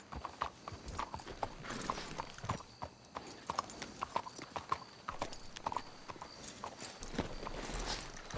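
Rhythmic clip-clop of horse hooves trotting steadily, with an occasional snort, fairly close and continuous throughout, from the video game Red Dead Redemption 2.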